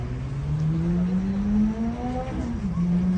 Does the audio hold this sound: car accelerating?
yes